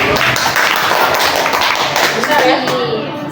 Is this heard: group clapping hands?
yes